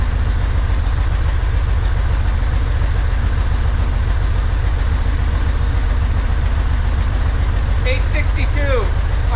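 A 1963 Corvair engine idles in a steady, even drone with a dense low rumble throughout, and a brief burst of speech cuts in near the end.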